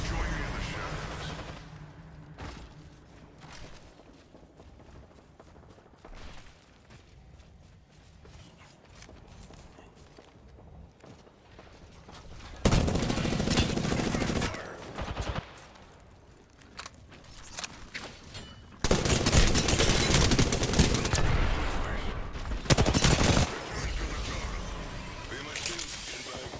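Gunfire in the Apex Legends video game, scattered shots and footsteps early on, then loud bursts of rapid firing around the middle and the last third, close and intense, with voices talking over parts of it.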